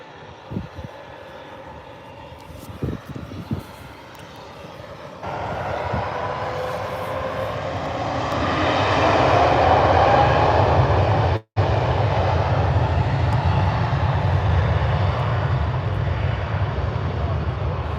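An Airbus A380 jet at Birmingham Airport, its engine roar swelling from a low rumble into a loud, sustained broadband thunder that holds steady close by, with an earlier stretch of quieter background noise.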